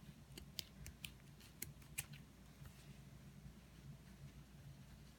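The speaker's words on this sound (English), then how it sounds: "I'm going to trim that little piece off" Scissors snip a yarn tail off a finished weaving, a few quiet, sharp clicks coming in the first couple of seconds over a faint room hush.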